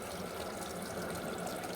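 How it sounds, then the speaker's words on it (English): Water poured by hand down the intake of a sump pump with a stuck float, a steady close trickle and splash filling the pit, with no talking. "Putting a little water down"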